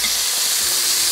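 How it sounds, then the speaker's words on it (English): Chicken pieces sizzle loudly in a frying pan of melted chicken skin and fat, a steady dense crackling hiss with no talk. "Another sizzle,"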